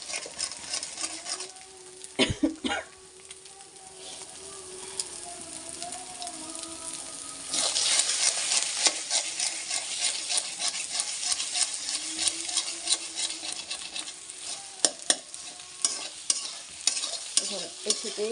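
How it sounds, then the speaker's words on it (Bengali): Eggs with a little salt frying and being stirred in a pan, a continuous crackling sizzle that swells louder partway through, with repeated scraping strokes and occasional sharp knocks of the spatula, no voices. "এখন ডিমটা ভালোভাবে এর সাথে একটু ভেজে নিয়ে তখন মিক্সড করে নেব।"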